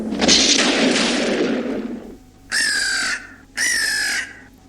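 A crow squawks, with a rough rushing noise first, followed by two loud, harsh caws, each about half a second long, close by and separated by a short pause, with no talking.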